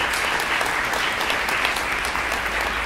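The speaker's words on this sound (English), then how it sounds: "So a big round of applause for our fantastic sponsors." An audience at a keynote event in a Brooklyn dance center claps in sustained, dense applause, loud and steady throughout with no voices over it.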